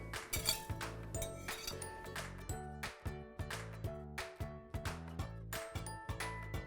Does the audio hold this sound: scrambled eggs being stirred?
yes